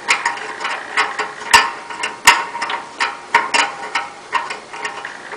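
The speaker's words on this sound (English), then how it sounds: "At this point, you can tighten the wing nut once you have it in place." A wing nut is tightened by hand on a pellet grill igniter, producing a close, loud series of rhythmic ratcheting clicks and metallic knocks, about two per second, with no talking.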